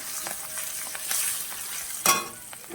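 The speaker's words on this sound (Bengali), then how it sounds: "এখন আমি এই ক্যাপসিকাম টমেটো এইগুলো এখন তেলের উপরে দিয়ে দিচ্ছি।" Capsicum, tomato and cumin powder frying in hot oil, a soft close sizzle with occasional stirring scrapes and one sharp louder crackle toward the end.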